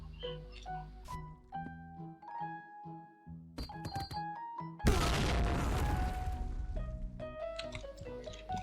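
Game music and clicky tones play, then a grenade thrown in Point Blank's Luxville map bursts in a sudden loud explosion whose rumbling roar slowly fades under the returning music.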